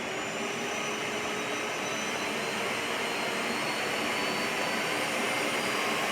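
A Miele S7580 Tango upright vacuum cleaner runs steadily on its lowest power setting, a constant whirring drone that stays even throughout with no pauses or voices.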